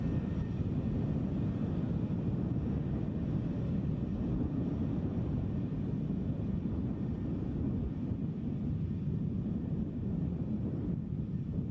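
An EasyJet airliner at Edinburgh Airport rumbles steadily in the distance, a low, even engine drone mixed with wind-like noise, with no voices present.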